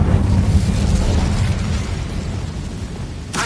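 The Incendio fire spell in a Hogwarts video game bursts out as a loud, roaring blast of flame that fills the scene, then tapers off before a sharp crackle near the end.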